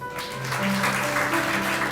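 Scattered applause rises from a church congregation at an Ascension Day service over a low steady hum, spreading into a continuous patter of clapping.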